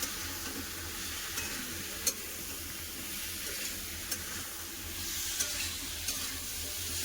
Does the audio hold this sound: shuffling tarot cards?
no